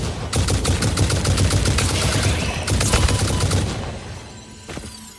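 Rapid gunfire in the video game Satisfactory, aimed at a spider creature: dense bursts of sharp, loud shots for about four seconds, then a pause and one final shot.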